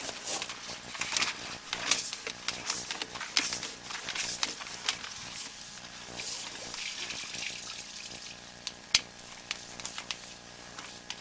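Water trickles and splashes faintly through an underground sewer pipe with roots inside, an uneven, echoing flow broken by small clicks and knocks.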